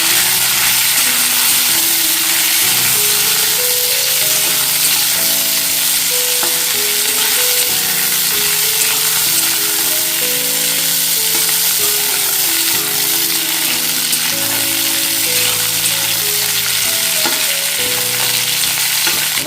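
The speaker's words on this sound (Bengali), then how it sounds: "ফুলকপি গাজর আর একটু আলু দিয়ে দিলাম এর মধ্যে দিয়ে আমি হালকা ফ্রাই করে নেবো" Cauliflower, carrot and potato pieces sizzle steadily in hot oil in a pan, a loud, close, unbroken fry with melodic background music playing throughout.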